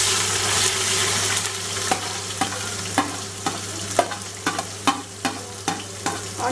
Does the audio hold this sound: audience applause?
no